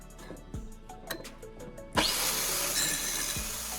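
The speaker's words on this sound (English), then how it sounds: "I'm placing our DIY circular cutting jig on a metal sheet, aligning it and starting the cut" An angle grinder fitted to a DIY circular cutting jig starts up and bites into a metal sheet, a few knocks and taps giving way at two seconds to a loud, steady, broadband grinding whine that holds to the end.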